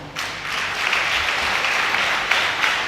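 A hall audience at a Beninese cultural congress bursts into sustained applause, steady and fairly loud, building quickly and holding for about three seconds.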